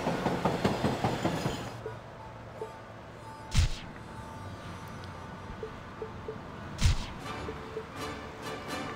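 Train sounds in a city-building video game on an Xbox indie title, a rhythmic clickety-clack of rolling wagons at first, then a quieter steady rumble broken by two short metallic clanks.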